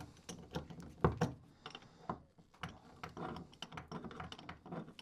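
Tool tightening a loose sprocket on the countershaft of a 1919 Grafton cyclecar: a quiet series of irregular ratcheting clicks and small metallic knocks, close by with no voices.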